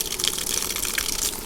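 Water gushes steadily from the hose of a Camp Chef Triton 5L portable propane water heater, a continuous close splashing flow with no talk over it.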